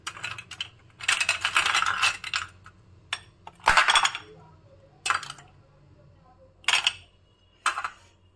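Ice cubes clatter and clink into a glass in several separate bursts, one longer rattle then short sharp drops with quiet gaps between.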